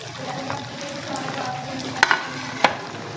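Gulab jamun fry in oil under a constant soft sizzle while being gently stirred, with a few sharp spoon clinks against the pan near the end.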